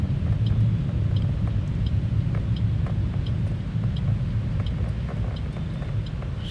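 Steady low rumble of a car creeping through heavy morning traffic, the engine note easing as it slows with the clutch in and brakes touched; close, continuous and without talk.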